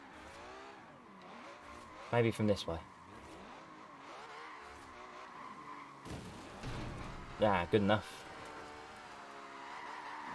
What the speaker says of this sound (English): That was the fastest car in the game, drifting backwards